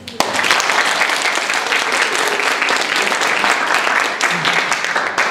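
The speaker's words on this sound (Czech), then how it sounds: "potlesk pro Martina" Live improv theatre audience applauding a performer in a vote, steady dense clapping that stays loud and even throughout with crowd noise mixed in.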